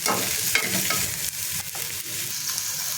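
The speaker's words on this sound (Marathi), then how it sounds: "त्याच पातेलीमध्ये आपण थोडं तेल टाकून घेऊयात ते लसूण टाकूयात एक मीडियम आकाराचा कांदा चिरून घेतलेला आहे ते आपल्याला परतून घ्यायचं" Garlic and chopped medium onion sauté in oil in a pot, giving a steady, loud, close sizzle with occasional stirring scrapes throughout.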